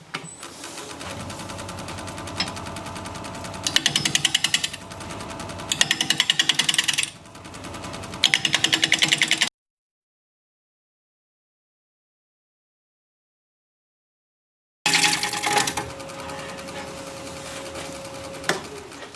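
Woodturning tool sharpened on a grinder while working a desert oak bowl: loud, harsh buzzing grind in close bursts, then a stretch of silence and another grinding pass.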